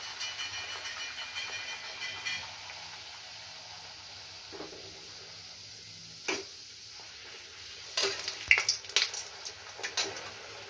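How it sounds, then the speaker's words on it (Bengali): Kochuri, pea-stuffed pastries, deep-frying in oil give a faint, steady sizzling hiss, with a few brief clicks and taps near the end. "আমি এরমভাবে কটা ভেজে নিই।"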